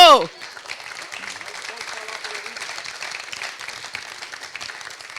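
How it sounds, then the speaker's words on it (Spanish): A church congregation applauds during a Christian sermon, a steady, moderately loud spread of clapping that follows a brief voice at the start and keeps going evenly to the end. "Den un aplauso a Cristo"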